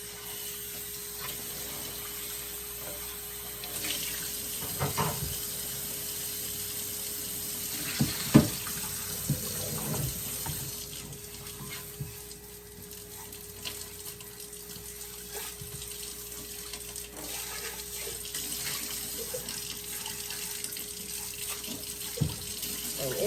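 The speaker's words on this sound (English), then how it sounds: "Now we just need to rinse it." Tap water runs steadily into a sink to rinse the jar of a cooking blender, a constant hiss and splash with a few light knocks and clatters over a faint hum.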